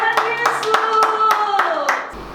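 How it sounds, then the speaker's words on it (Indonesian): Children at a Good Friday kids' church service clap their hands for Jesus in a quick, fairly regular rhythm under a loud voice speaking or singing. "Beri tepuk tangan buat Tuhan"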